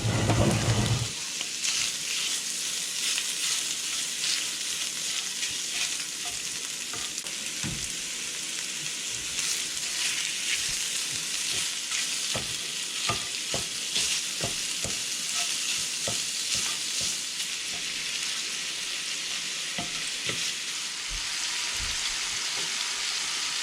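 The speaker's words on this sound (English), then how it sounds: "I was just gonna chop it up, throw it in the skillet, and yeah, let's get to it. And we're gonna cook this till we get a nice brown on it." Chopped beef sausage fries in a skillet with a continuous close hiss and crackle, punctuated by scattered sharp pops and occasional stirring scrapes, without any talking.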